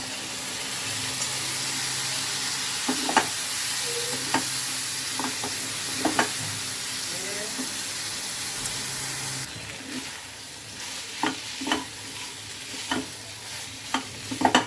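Spice paste of ground spices, cumin paste and ginger paste mixed in mustard oil frying in a pan for a soybean curry, with a steady sizzle and repeated scraping stirs, close and continuous, no talking.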